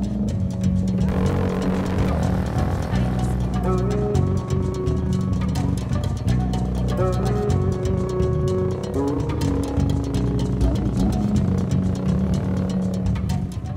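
Motorcycles ride a long road from Coronadal, South Cotabato, toward the nearest mountain, their engines droning steadily and loudly throughout with no pause.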